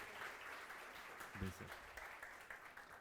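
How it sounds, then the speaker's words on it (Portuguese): A church congregation applauding during a service: a steady wash of clapping, moderately faint and continuous throughout, with a brief low voice or thump near the middle. "Aplauda Jesus pela vida deles"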